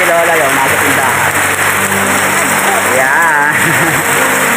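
Steady rain falls on a street during a rain shower where a balut and penoy vendor is selling, producing a loud continuous hiss with no breaks.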